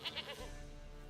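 A goat bleats twice in quick succession in Witcher 3, short nasal cries near and fairly loud over a low steady game ambience.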